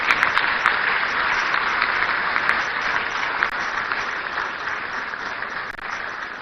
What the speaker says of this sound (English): If we can just support with a longer applause